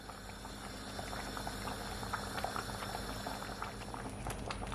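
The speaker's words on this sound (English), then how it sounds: "gonna cover my pot, or just half cover it so it doesn't boil over" A pot of peas and pigtail simmers on the stove, bubbling softly and continuously with faint pops and gurgles close by.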